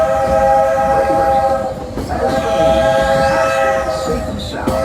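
Fort Wilderness railroad train running, its horn sounding steady and loud with strong sustained tones over the rumbling cars, the horn pausing briefly near the middle before resuming.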